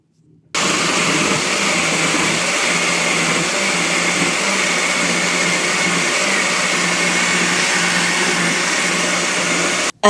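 A kitchen blender whirs at full speed, mixing cream, Kiri cheese, cream caramel powder, Dream Whip and mango juice for a mango trifle. The loud, even motor roar starts abruptly and holds steady before cutting off.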